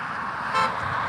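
A brief car horn toot sounds over steady road and engine noise.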